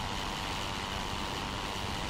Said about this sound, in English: I can hear that damn lawnmower engine a mile away.